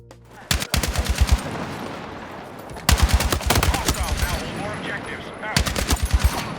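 RPK light machine gun in Battlefield 6 fires three loud bursts of rapid automatic fire, each about a second long, separated by pauses filled with game ambience.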